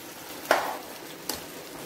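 Chicken shashlik frying in a pan, a soft steady sizzle with two brief stirring clatters, close and quiet, no talking.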